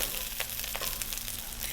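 Rice frying over high heat in a pan, a steady close hiss of sizzling with a few soft scraping pushes as the grains are moved aside.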